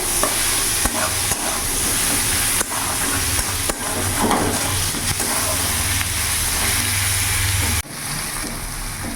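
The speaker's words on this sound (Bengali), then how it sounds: "পেঁয়াজটা একটু ভাজা ভাজা করে নেব" Chopped onion frying in a pan, loud continuous sizzling with repeated scraping and stirring knocks, a low hum running under it until a sudden drop near the end.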